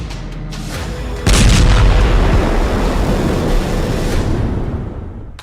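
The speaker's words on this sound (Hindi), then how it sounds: "उसकी सेना ने गाजा के सुरंग नेटवर्क पर बहुत ही भीषण हवाई हमला किया है" Israeli airstrike on a Hamas tunnel network in Gaza: after a steady low rumble, one heavy boom hits about a second in and rolls into a long, loud roar that slowly fades.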